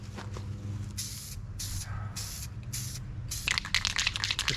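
Short bursts of mist from a spray gun onto a panel of a 1965 Dodge Coronet 500 outdoors, about four separate hissing sprays in a row, then a busier crackling, spitting stretch at the end.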